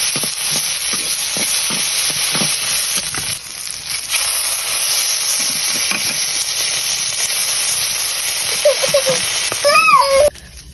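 Green chilies frying in a pan with fried potatoes and tomatoes, a loud continuous hiss and sizzle with occasional stirring scrapes, close up, ending in a brief sharper clatter.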